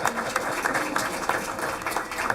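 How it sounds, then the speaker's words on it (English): Applause at a school board meeting, steady dense clapping from an audience filling the room throughout, fairly close and sustained without pauses. "Yeah, you go ahead and applaud for him,"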